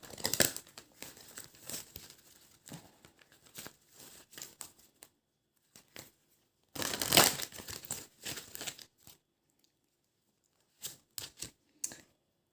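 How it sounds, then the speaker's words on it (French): Oracle advice cards are shuffled and one is drawn, giving soft, close rustling and crinkling of card stock in irregular bursts with quiet gaps between them and no talking. "je vais tirer ici petite carte conseil"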